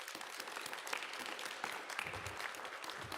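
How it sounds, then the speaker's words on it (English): Audience applause at a women's health event in New York City: a dense, steady wash of many hands clapping, moderately loud and filling the room, with no distinct speech over it. "Give yourselves a round of applause."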